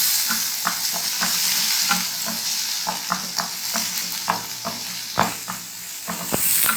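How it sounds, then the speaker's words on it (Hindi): Green peas fry in melted butter in a pan for a mixed vegetable pancake, giving a steady close sizzle broken by repeated scraping stirs of a spoon. "जब बटर मेल्ट हो गया, उसमें सबसे पहले हमने ये मटर ऐड करनी है। मटर को थोड़ा सा फ्राई करना है।"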